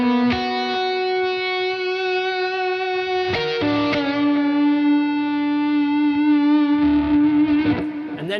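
Electric guitar played through a lead amp plug-in, heard as sustained, distorted notes with rich harmonics, a few pitch changes and short breaks between phrases, loud and alone.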